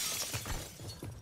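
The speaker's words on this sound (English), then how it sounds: "Lethal measure. Breaking glass." Glass shatters in a Call of Duty match, a quick crunching burst of breaking fragments over continuous game noise.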